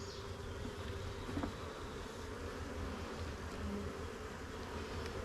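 Honey bees buzz steadily around hive frames during a nuc installation, a faint, continuous swarm hum with no voices.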